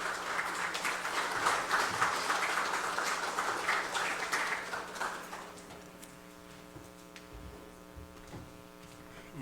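A round of applause for panelist Dr. Roy Cayetano at an Indigenous People's Resistance Day forum, moderately loud clapping that fades out about halfway, leaving a steady electrical hum and a few stray claps.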